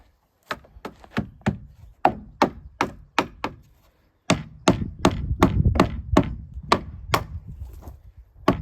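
Repeated sharp hammer blows on wood pallets, close by, in two bursts separated by a brief pause, the second run faster and denser.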